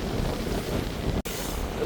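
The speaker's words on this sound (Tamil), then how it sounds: "இந்த காற்று அடிக்குதுப்பா" Strong cyclone wind roars at a stormy seashore in Jaffna, buffeting the microphone in a constant loud rush broken by one brief dropout.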